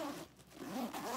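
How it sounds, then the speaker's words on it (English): A backpack zipper pulled along its track in two quick strokes with a short pause between, close and crisp, with no voices. "Got very nice zipper."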